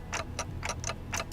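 In the Limbus Company video game, a crisp, even clock-like ticking repeats about five times in under a second and a half, bright and distinct over a low background hum, with no voices.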